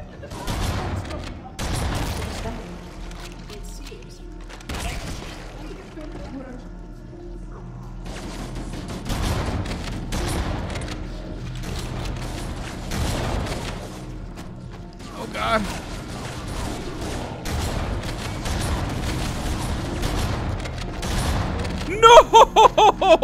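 Gunfire in Halo: Combat Evolved Anniversary comes as repeated shots and bursts scattered through a long stretch, with booms and mechanical clanks, alongside game noise, ending in a quick series of sharp loud cracks.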